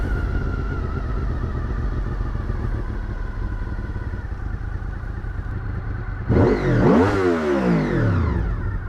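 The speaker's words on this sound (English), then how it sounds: "It's a good sounding bike, man. I like a V4." A 2000 Honda VFR800 V4 motorcycle idles steadily close by, then gives one sharp rev that climbs and falls away near the end. No one speaks.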